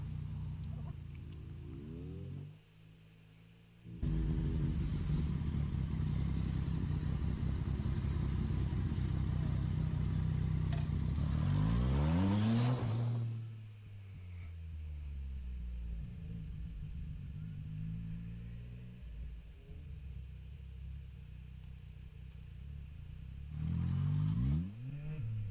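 A motorcycle engine rumbles and revs loudly close by in traffic during a road rage encounter at a stoplight, with a steady idle, sweeping rises and falls in pitch as it accelerates, then a quieter stretch and another rev.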